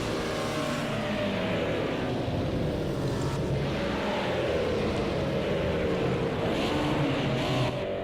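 Group A race cars on a formation lap at the Red Bull Ring, a continuous droning engine roar with shifting pitch as cars pass at moderate distance, steady and unbroken throughout.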